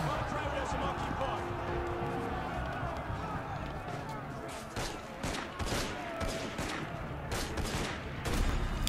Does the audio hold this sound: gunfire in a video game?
yes